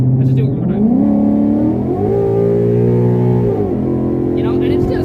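A 2014 Ford Mustang GT's engine revs hard under acceleration, climbing in pitch, holding high, then dropping and rising again as gears shift. The engine is loud and close, and a voice can be heard faintly at the end.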